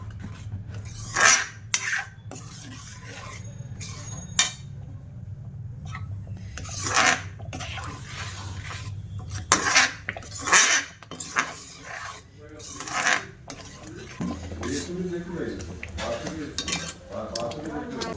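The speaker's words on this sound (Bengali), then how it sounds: "তিন চামচ ভিনিগার দিয়ে দিলাম দিয়ে আর একটু মিশিয়ে নেবে ভালো করে" A metal spoon clinks and scrapes against a pan while homemade tomato sauce is stirred after vinegar is added, giving irregular nearby knocks and rasps mixed with someone speaking.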